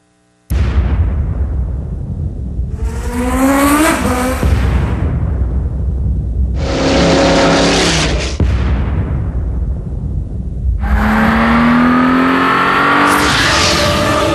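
Race cars in a 2004 Forza Motorsport trailer for Xbox roar past in three long, loud passes, each engine note rising in pitch with revving and gear shifts before cutting off, with roaring impact-like bursts between.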